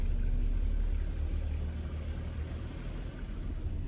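A Jeep's exhaust is submerged while off-roading through water in a Florida state forest slough, giving a steady, muffled low rumble that holds throughout with no talking.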